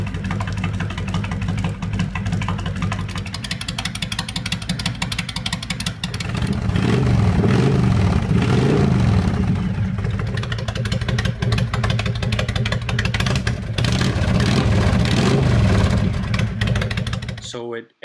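A vehicle exhaust fitted with a quiet baffle and heat shield runs with a steady low drone, getting louder partway through and holding there until it cuts off, with talking over it.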